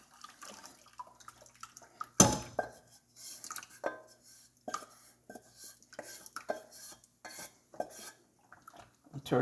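Cornmeal cooking in a pot is stirred with a utensil, giving quiet, irregular scraping and clinks, one sharp knock near the start, and soft wet sounds throughout.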